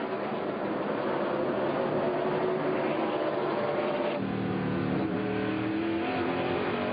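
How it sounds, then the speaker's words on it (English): A NASCAR stock car at the 2003 Virginia 500 is heard from the onboard camera, with a continuous, loud engine roar. The throttle is fed in carefully, so the pitch shifts midway, and there is no talk. "And Mike, you can hear how delicately you have to handle that throttle."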